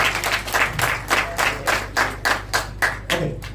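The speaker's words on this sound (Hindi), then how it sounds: "जोरदार तालियां किशोर भाई के लिए।" Rhythmic group clapping for Kishore bhai at a sales training session, steady beats roughly every third of a second, close and fairly loud with no talk over it.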